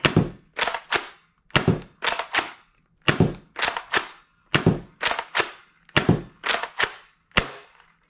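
A Nerf Rival Roundhouse XX-1500 pistol with a rotating carousel is primed and fired about a dozen times, each crisp pull of the priming handle followed by a sharp thunk of the shot, in a steady rhythm, close and alone.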